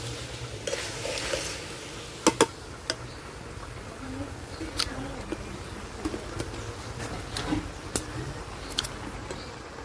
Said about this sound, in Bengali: আচারটারে আবার একটু নাড়াচাড়া দিয়ে নিতেছি, ভালো করে মিশাই নিব